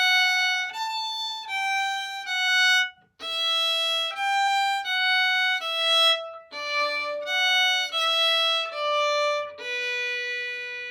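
A violin plays a phrase of the Irish hornpipe Boys of Bluehill in a beginner lesson, clear and close, with a steady run of distinct bowed notes and a short break partway through.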